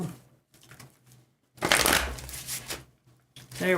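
A deck of tarot cards is shuffled in one brief riffling burst close by, between quiet pauses.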